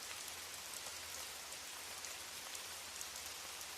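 Steady rain pours down in sheets, a dense, continuous hiss of drops on surfaces at an even level throughout with no pauses, no voices and a faint low hum underneath.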